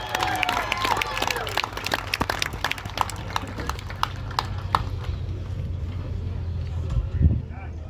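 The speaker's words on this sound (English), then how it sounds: "How about a round of applause for your top three right here today?" Crowd at Wiscasset Speedway applauding the top three finishers of a race: scattered, fairly distant clapping with sharp individual claps over a low engine rumble, with some chatter mixed in.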